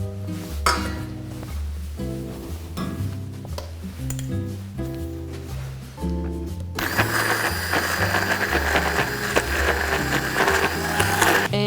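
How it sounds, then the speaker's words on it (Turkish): A blender motor emulsifying pistachio chocolate filling whirs loudly and steadily, preceded by musical tones and clinking, running continuously to the end. "şimdi blenderla emisyon haline getireceğim ve kullanmaya başlayacağım"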